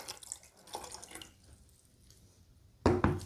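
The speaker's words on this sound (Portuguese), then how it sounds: "Vou colocar 650 ml de água." Water, about 650 ml, is poured into a pot holding orange peel for a homemade tea. Quiet kitchen sounds and faint drips give way to a loud, short splash of pouring at the end.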